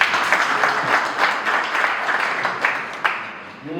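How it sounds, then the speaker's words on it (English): Convention audience applause at a FESA North America gathering, a dense, steady wash of many hands clapping, fairly loud and continuous, easing slightly toward the end. "Another hand of applause, please."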